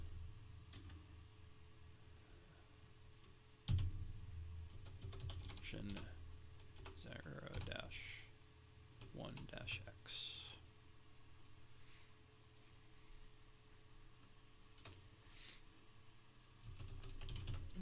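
A git checkout command typed on a computer keyboard, soft scattered keystrokes at low level with a few louder taps and a faint steady hum underneath.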